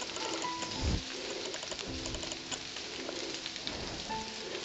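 Light drizzling rain patters softly and steadily in humid forest near a cemetery in Big Greenbrier, with faint bird coos and a few low thumps in the background.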